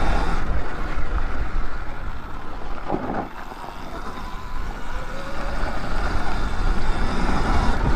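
A Surron electric dirt bike runs along a trail, heard as continuous rushing wind buffeting and tire roar with a faint motor whine, loud and close, briefly dipping midway before surging again; nobody talks.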